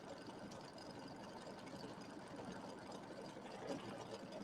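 An embroidery machine stitching out a dense quilt border design, a faint, steady rapid whirring hum that runs unbroken for the whole stretch, with no voices.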